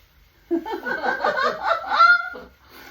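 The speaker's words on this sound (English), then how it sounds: "Yes, happy birdies. Happy birds." Pet birds, likely geese, honking and chattering in a quick cluster of close, lively calls, with silence on either side.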